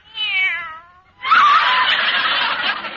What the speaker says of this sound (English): Oh, there you are, you cute little kitten.